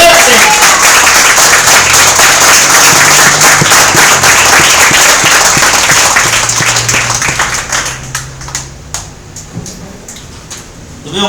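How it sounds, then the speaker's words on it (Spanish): A church congregation applauds loudly during an energetic Spanish-language sermon about faith and honor in war, a dense sustained wash of clapping that thins into scattered individual claps over the final seconds. "Si le vas a aplaudir, apláudele fuerte"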